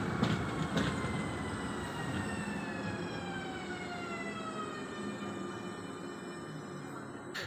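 A delayed Super City Pendolino train, the Košičan from Košice, pulls into a station with a long, slowly falling metallic squeal of brakes over a rumbling undercarriage, steady and close, easing toward a stop.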